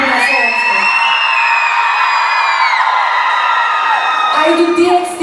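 A loud crowd cheers, whoops and screams continuously at a K-pop showcase in Slovakia, with high-pitched shrieks sustained throughout before briefly easing near the end.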